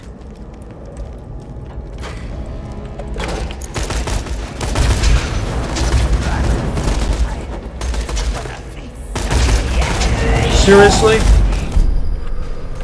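Gunfire from a sniper rifle in the video game Borderlands 2, with bursts of loud shots and booms coming in clusters, a voice speaking briefly over the noise.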